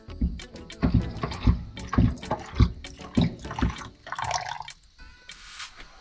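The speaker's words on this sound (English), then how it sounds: "let's take a look at our sink and our lovely luxurious pump tap. I'll give you a little demo on how that works" Water gushing from a hand-pumped tap into a caravan sink, fed from a 100-litre tank built in underneath, comes in a series of short rhythmic bursts with each pump stroke, close and fairly loud, ending in a brief trickle.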